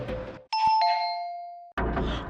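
A two-tone doorbell chimes once, a bright ding followed by a lower dong that rings out and fades, sounding alone between stretches of other noise.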